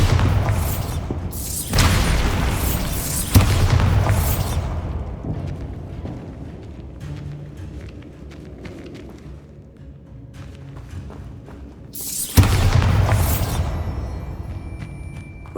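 Explosive blasts from a Bombarda spell smash a barricaded archway in Hogwarts Legacy, a game set at Hogwarts. Several loud booms come in quick succession, then a rumbling lull, then another heavy blast near the end.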